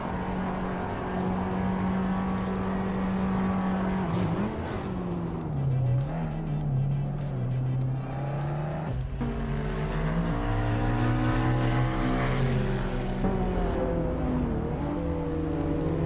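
Race cars in a video game run wheel to wheel, engines droning loud and steady with pitch rising and falling through gear changes and a brief tire squeal, no voices.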